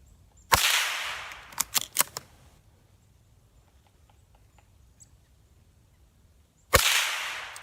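Two sharp, loud rifle reports from a CZ rifle shot off a bipod at a 35-yard target, about six seconds apart, each with a short ringing tail and faint clicks between them.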